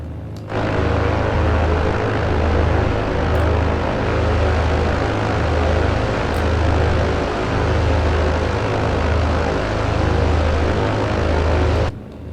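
BN2 Islander piston-prop aircraft taxiing toward a runway hold point, its engines droning loud and steady with a throbbing propeller beat from close by inside the cabin, running without a break until the noise cuts off at the end.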